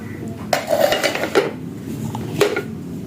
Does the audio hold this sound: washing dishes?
yes